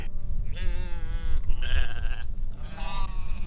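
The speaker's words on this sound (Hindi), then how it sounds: "दूर से कुछ भेड़ों के मिमियाने की हल्की सी आवाज" Sheep bleat three times in separate wavering cries, each lasting under a second, over a low windy rumble, with no talking.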